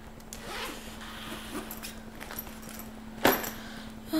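A quick suitcase zipper pull rasps close by at about three seconds, on a suitcase full of books, with faint rustling and handling noise around it and a low steady hum throughout.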